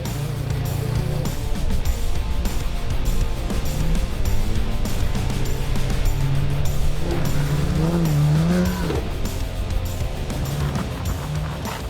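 A Unimog truck driven hard on a sandy beach at Pemberton, its engine roaring loud and close for several seconds, revving and straining with rising and falling pitch as the tyres churn.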